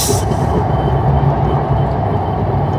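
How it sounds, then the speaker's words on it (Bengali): The Rupushi Bangla Express passenger train rumbles steadily along the rails while taking a curve, a continuous low mechanical roar with no voices, close and loud throughout. "দেখেন কি সুন্দর রেল একটা টার্নিং নিচ্ছে"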